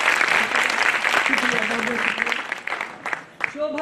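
Audience applause for poet Shobha at a women's mushaira, a burst of crowd clapping heard under a voice speaking over it, tapering off near the end.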